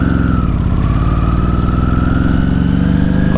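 A 2006 Ducati 749 motorcycle rides along the road, its engine a loud, close, steady throbbing drone with a slight rise in pitch, nothing else audible.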